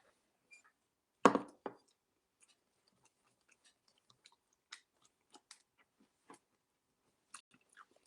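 Crunchy chewing of a Flaming Hot Cheetos sandwich at a mukbang, one loud close bite with a crackly crunch followed by sparse, quieter chews and small clicks.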